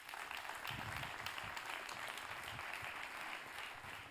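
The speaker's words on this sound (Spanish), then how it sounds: "Un aplauso. Txalo bat." Applause from a conference audience at an education innovation event, steady clapping from many hands, faint and distant, continuing for several seconds without speech.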